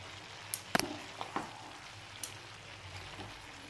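Turnip curry with ghee cooks in a pan with a faint low sizzle, while a spoon stirring it makes a few quiet clinks and scrapes.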